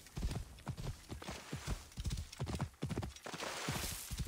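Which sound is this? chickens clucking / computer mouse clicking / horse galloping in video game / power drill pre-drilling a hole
horse galloping in video game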